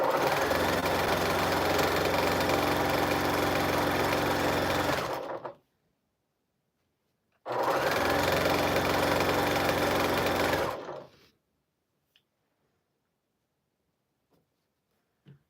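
A sewing machine stitching a quilt strip for a Wish pattern, running in two close, fast bursts of rapid mechanical whirring of about five and three seconds, each stopping abruptly, followed by near silence with a few faint clicks.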